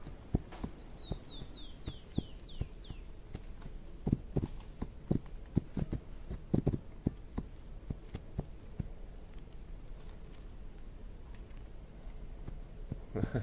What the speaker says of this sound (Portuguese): Movimentação do cavalo bem limpa, bonito.